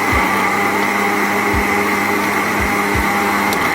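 A blender whirs steadily and loudly, close up, blending a thick tamarind and date chutney with chunks of date, its motor hum constant with a few low thumps as the mixture churns, no talk.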